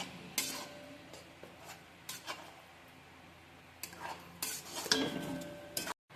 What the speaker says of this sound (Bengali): সবকিছু একসাথে মিশিয়ে নিচ্ছি